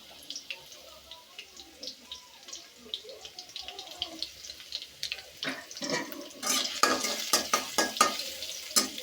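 Chopped garlic hits hot oil already tempered with five-spice in a village kitchen, giving a soft crackle that builds into louder, sharper sizzling and stirring bursts toward the end.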